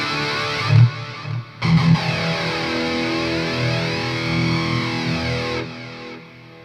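Electric guitar through a Line 6 Helix Stadium preset with flanger, delay and reverb: a few distorted picked notes, then a sustained chord whose sweeping flanger whoosh rises and falls before the ringing tail fades.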